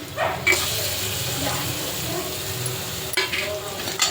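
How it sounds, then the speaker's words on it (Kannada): Green chillies and grated coconut fry in a pan, a steady close sizzle with soft stirring scrapes and a few sharper spoon knocks, with no talking. "ಸ್ವಲ್ಪ ಫ್ರೈ ಆಗಲಿ ಮೆಣಸಿನ್ಕಾಯಿ. ಕಾಯಿ ತುರಿ ಹಾಕ್ತಾಯಿದ್ದೀನಿ."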